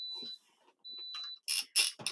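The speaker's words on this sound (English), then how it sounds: "don't know why my iron is beeping at me" Two steady high-pitched electronic beeps from a clothes iron sound under quiet talking, followed by louder rustling noises.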